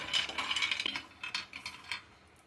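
Peanuts roasting in a pan on a stove are stirred with a spoon, giving soft, irregular clinks and rattles that fade toward the end, quiet and close with no talking.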